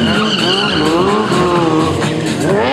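A motorcycle stunt rider at an extreme sports show spins the bike in place, the rear tire skidding and squealing continuously against pavement over the steady engine roar, loud and close, with no talk.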